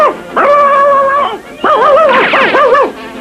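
Cartoon dog barking in a chase scene, two long drawn-out, tonal yelping calls with wavering pitch, loud and close, with no talking over them.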